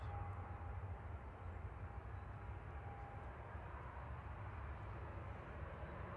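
Lufthansa Airbus A319 jet on approach at Manchester, a faint, steady distant engine rumble with a low drone underneath, no voices.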